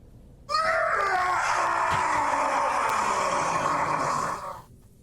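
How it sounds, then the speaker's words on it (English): A piercing scream rings out relatively close and echoes, starting abruptly and holding for about four seconds at steady strength before fading, with nothing else heard. "a piercing scream echoes. It's relatively close."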